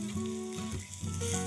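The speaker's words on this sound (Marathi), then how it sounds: "एक साधारण 4 ते 5 मिनिटं तेलावर भेंडी छान परतून घेतली" Okra (bhindi) sautéing in oil on a flat pan gives a steady close sizzle and frying crackle, partly covered by tonal background music.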